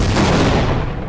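An artillery air strike in the video game Half-Life: Source lands as a single loud, broad roaring blast that fills the whole second without a break.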